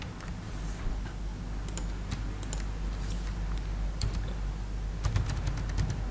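Someone types text into Microsoft Word on a computer keyboard, producing scattered light key clicks with a few sharper presses over a low room hum.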